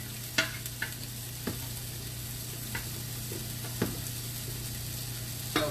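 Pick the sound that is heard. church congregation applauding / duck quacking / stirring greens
stirring greens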